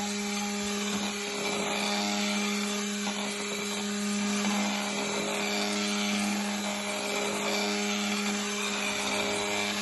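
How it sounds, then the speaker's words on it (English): An immersion blender churns soap mixture with a steady, continuous motor whine and buzz. It runs unbroken for about ten seconds at close range, with no voices over it. "you feel your immersion blender starting to heat up a little bit"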